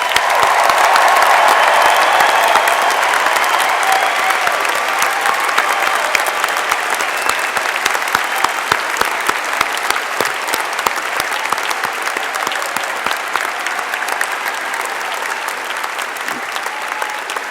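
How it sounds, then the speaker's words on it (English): Long, loud round of applause from a large crowd at a spring commencement ceremony for graduates, dense and steady throughout before thinning slightly toward the end. "Please join me in one more big round of applause for today's graduates"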